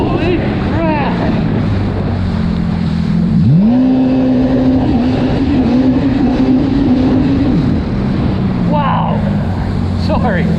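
A fast motorcycle on its first ride of the year, engine revving hard toward full RPM with a rising then sustained high tone, heavy wind buffeting over it and a rider's voice exclaiming.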